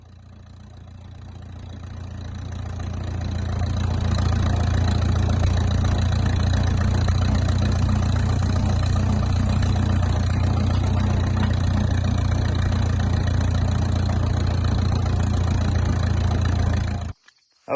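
A 1951 Farmall M tractor engine runs steadily with a deep, even low-pitched drone, building in over the first few seconds, holding close and constant, then cutting off abruptly near the end.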